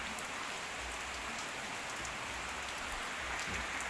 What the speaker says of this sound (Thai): ฝนตกตก